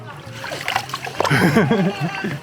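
Water sloshes and splashes over the edge of a hotel swimming pool in the Philippines, close and fairly loud, while people talk over it.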